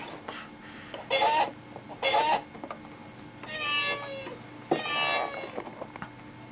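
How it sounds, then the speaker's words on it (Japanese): A cat meow from an animal-sound toy, sounding in a few short loud bursts with pauses between them, with faint background noise and no talk. "猫。"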